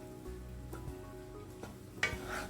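Chicken fried rice being stirred and mixed in a hot pan, giving a soft steady sizzle with light scraping taps of the utensil, faint and close, without speech.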